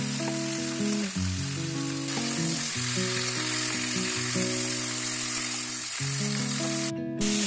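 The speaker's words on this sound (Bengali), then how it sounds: "এবারে বাকি মশলাটা দিয়ে কষিয়ে নিচ্ছি।" Cauliflower florets and spices sizzle and fry in oil in a pan for a roast cooked without onion or garlic. The steady hiss runs throughout beneath melodic background music.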